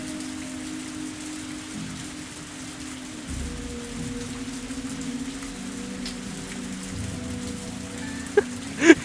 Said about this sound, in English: Treasure hunt in the middle of the night in the pouring rain.